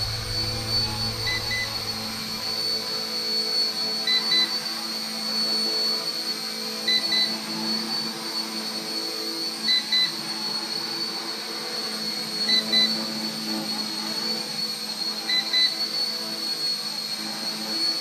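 A ready-to-fly RC Era C032 UH-1 Huey radio-controlled helicopter hovers, its small electric rotor giving a steady whirring whine with a constant high pitch that holds evenly throughout, loud and close, with no talk over it.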